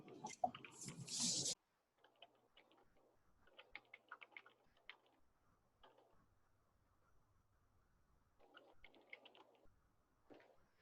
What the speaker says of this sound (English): I'm typing in Amarillo Sports Bars and Grills